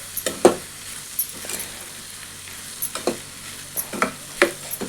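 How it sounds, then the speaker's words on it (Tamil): Soya chunk pepper fry is sautéed in a pan, with a soft steady sizzle beneath irregular clinks and scrapes of a spoon stirring against the metal. "இப்போ இதை நல்லா வந்து வதக்கி விட்டுக்கோங்க"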